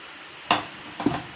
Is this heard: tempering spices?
yes